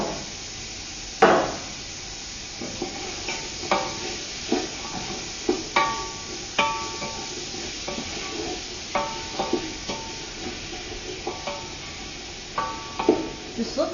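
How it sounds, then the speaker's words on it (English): Vegetables for cannellini and kale soup sizzle steadily in a hot pan, with repeated close clinks and knocks of a spoon stirring and tapping against the pot throughout. "You can really hear that sizzle."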